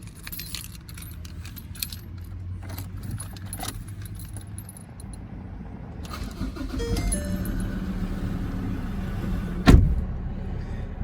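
Keys jangle close up before a 2017 Mazda BT50 XT ute cranks and its engine catches, settling into a steady low idle, with a sharp clunk near the end.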